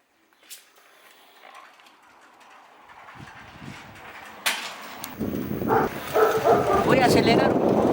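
A dog barks and yips close by, a few sharp barks rising amid scuffling noise, while a person talks over it.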